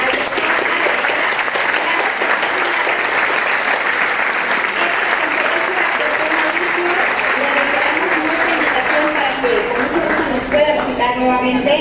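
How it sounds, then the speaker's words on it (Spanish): A lecture audience at a keynote conference applauds steadily and loudly, continuous clapping sustained for several seconds with some voices mixed in toward the end. "Le damos un fuerte aplauso"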